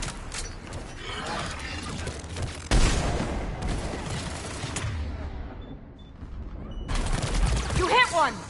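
Gunfire in Mass Effect 3 combat, loud bursts and rattling volleys with heavy booms, breaking off into a brief lull before firing resumes, with voices shouting over the fight.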